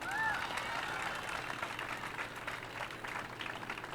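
Engineering college students clap at a farewell day event, a faint, scattered patter of hands heard from a distance under room noise, with a voice briefly audible at the start.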